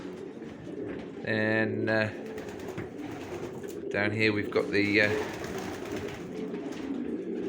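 Racing pigeons coo in a breeding loft during the breeding season, in two short bursts of soft, rolling calls close by, with someone talking over and between them.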